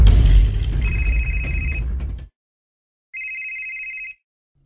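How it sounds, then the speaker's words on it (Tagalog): A cellphone rings in two electronic tone bursts, the first under loud clattering and garage commotion, the second alone after a brief silence, clear and close. "ang imong cellphone, may pagting"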